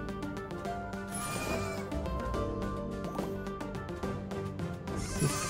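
Goats bleating in the 2D platformer video game Bean and Brew, loud repeated cartoonish bleats layered over busy game music and sound effects, with no talk.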